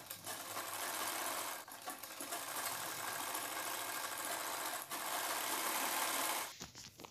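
A sewing machine runs steadily, stitching folded blouse fabric along a waistband, loud and close with a continuous whirring drone that pauses briefly twice before stopping near the end.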